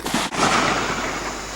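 A Savage 10 FCP-SR bolt action rifle in .308 Win, loaded with 168 grain Federal match ammunition, fires a single loud shot that cracks sharply and then rolls into a long, broad rumbling tail.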